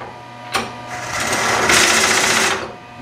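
A CNC vertical mill performs an automatic tool change: a sharp mechanical clunk, then a whirring, hissing spindle and changer motion that swells and fades over about two seconds, close and fairly loud.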